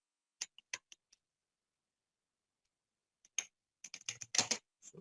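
Keys on a computer keyboard clack in a few quick, quiet taps, then a pause, then a denser flurry of crisp clicks, close and alone.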